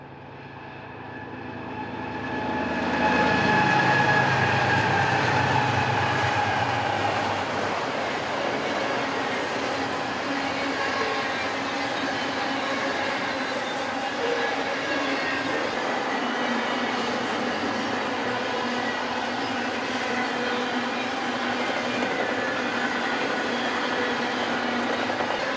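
A train passes at the Helendale Narrows, near milepost 19.2: a rising rumble swells into a loud, sustained roar of rolling cars with tonal engine drone and faint wheel clatter, steady to the end.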